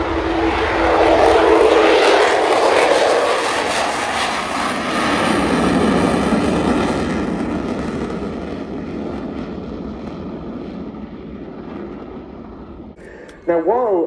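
A display aircraft roars loudly in a steep descent at the Royal International Air Tattoo air show, and the engine noise swells and then gradually fades into the distance. A commentator's voice talks over it.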